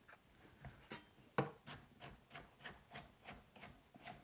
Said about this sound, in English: I'm just going to quickly chop up some red pepper here to toss in.